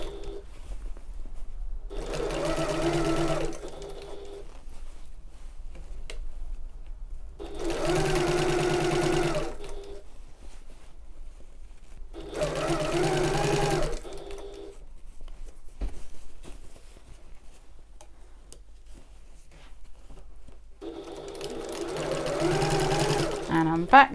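Sewing machine stitching the oval base of a fabric tote bag, running in four separate bursts of a few seconds each with quiet pauses between, steady and close.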